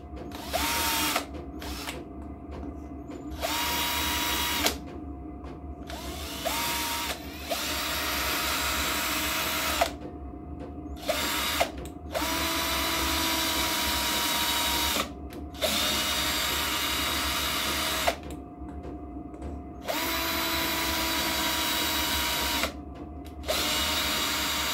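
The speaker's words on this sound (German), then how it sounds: "jetzt fixiere ich das hier drauf mit drei Schrauben." A power drill drives three screws to fix a part onto a homemade jet engine, whining loudly in repeated long bursts with brief pauses between them, close and steady over a low background hum.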